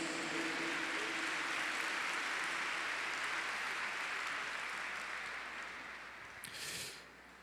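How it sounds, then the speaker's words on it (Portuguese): A congregation applauds at a church service, a steady broadband wash of many hands that holds evenly and then gradually fades away near the end, with no voices over it. "Vamos aplaudir essa palavra de Deus."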